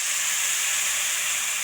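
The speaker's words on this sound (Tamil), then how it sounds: "நல்லா மொறுன்னு ஆன பிறகு லெமன் தண்ணியை ஊற்றிக்கங்க" A steady, loud hiss as lemon water is poured into a hot pan while making lemon rice, sizzling continuous and unbroken for the whole moment.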